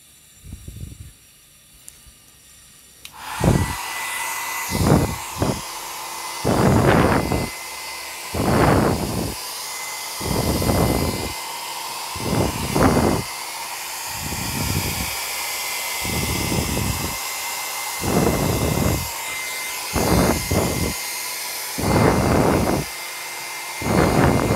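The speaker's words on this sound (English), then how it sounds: "Now I'll be using this hair dryer." A hair dryer blows on liquid acrylic paint, switching on with a steady loud whooshing hiss that runs continuously while intermittent bursts of breathy noise pulse over it again and again.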